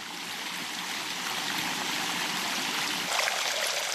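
Water rushes down the stone water staircase at the Alhambra in Granada, a continuous, fairly loud flowing stream with a brief surge near the end and no voices.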